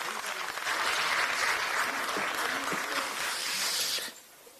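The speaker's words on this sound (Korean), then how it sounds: "큰 박수로 맞이해 주시기 바랍니다." Audience applause at a Democratic Party of Korea political event, a dense sustained clapping from a large crowd for about four seconds before fading out quickly.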